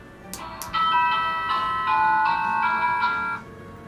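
A Barbie Nutcracker lead ballerina doll plays its built-in electronic tune, a thin, chiming melody of sustained tones heard close and alone for a few seconds after two short clicks.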